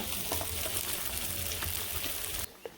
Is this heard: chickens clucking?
no